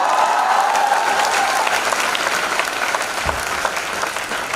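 A loud, dense round of clapping from the audience at a mindset training session, steady throughout and gradually easing near the end.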